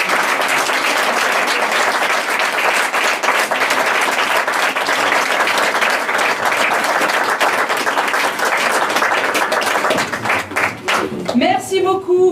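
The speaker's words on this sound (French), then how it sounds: "vous pouvez les applaudir effectivement" Sustained, dense applause from a theatre audience for children's stage performers in Aix-en-Provence, loud and steady for about ten seconds before thinning into scattered claps near the end.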